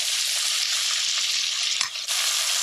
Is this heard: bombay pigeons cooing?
no